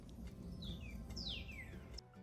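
Small birds chirp on a farm, a few thin rising and falling calls and tweets over a soft outdoor background, fairly near but not loud.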